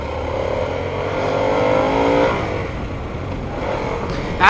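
A Harley-Davidson Sportster S engine revs in neutral, climbing in pitch to a loud peak then dropping back to a steady idle, close and with no talking.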